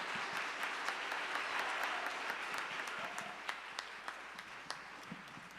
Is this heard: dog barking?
no